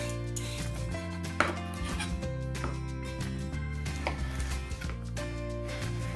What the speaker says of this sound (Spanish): Lo primero que tenemos que hacer con la zanahoria es pelarla y la vamos a cortar igual que la cebolla, en cuadraditos.